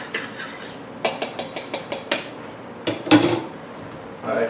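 A utensil beats egg with fresh lemon zest in a bowl, a run of quick, sharp clinks against the side in a steady rhythm, then a pause and a few heavier scraping strokes, close up with no talking.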